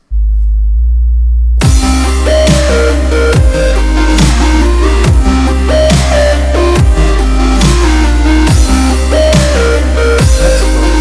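A simple synth bass in an FL Studio electronic track enters after a brief quiet intro with a pitched tone. It drives a loud, full mix with repeated downward pitch sweeps and rhythmic drums.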